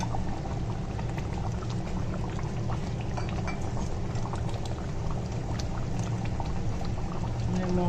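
Raw mustard oil pours into a hot pan for a mustard fish dish, a dense, loud, continuous bubbling hiss with a crackle running through it that never lets up.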